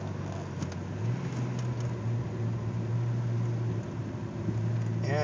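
A low, steady drone from an Imperial car engine under light throttle climbing a hill, holding a constant hum with slight swells, faint rattles on top, and no talk.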